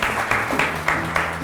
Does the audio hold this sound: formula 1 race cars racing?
no